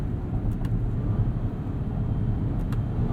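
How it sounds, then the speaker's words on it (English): A 2022 Acura MDX A-Spec's V6 drones steadily while the car is driven, a low, even engine hum under faint cabin road noise, with a couple of soft clicks. "this V6 still sounds very healthy. Makes good noises"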